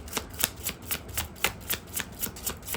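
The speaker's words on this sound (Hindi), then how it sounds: "और 2 टाइम्स हम शफल करेंगे।" Tarot cards riffled by hand in a quiet room, a steady run of about a dozen soft papery flicks in even rhythm, close and alone with no voices.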